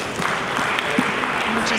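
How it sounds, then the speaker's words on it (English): A brief burst of audience applause at the innovfest unbound 2017 conference as a guest comes up on stage, a crowd of hands clapping under a bit of nearby talk. "Round of applause"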